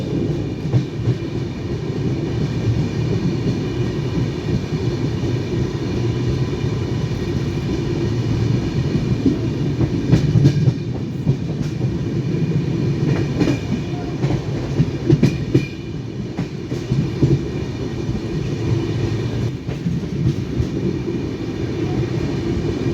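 Train at Belagavi railway station: a loud, steady rumble with rhythmic clicks and clunks from the wheels that runs without a break, and no one speaking.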